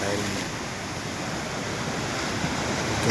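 Strong sea waves surging against granite rocks on a Seychelles island shore, a steady, loud, broadband wash of surf that continues without a break.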